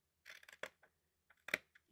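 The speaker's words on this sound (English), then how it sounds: "And now we'll snip this." Quiet, close scissors snips cutting paper while assembling a junk journal, a few short crisp cuts spaced apart in an otherwise silent room.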